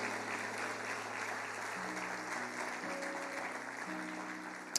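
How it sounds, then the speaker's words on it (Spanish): A church congregation bursts into steady applause during a service, with sustained keyboard-like chords ringing underneath throughout. "¿Cuánto le dan un fuerte aplauso a nuestro Dios?"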